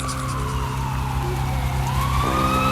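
A loud, steady ambulance siren with a wailing tone that slowly rises and falls, heard up close over a constant engine rumble.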